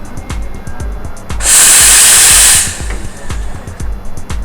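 An espresso machine's steam wand is purged before steaming milk, a loud, close burst of hissing steam lasting about a second amid a steady mechanical pump ticking.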